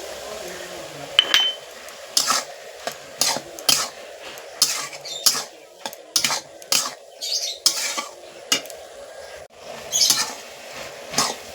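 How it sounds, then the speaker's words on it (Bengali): A spoon scrapes and clinks in a pan, stirring chili powder and a ground cumin-mustard paste into ash gourd for a vegetarian dish, in a steady series of short, close strokes. "দেখো মশলাটা দিয়ে আমি ভালো করে লেড়ে নিয়েছি"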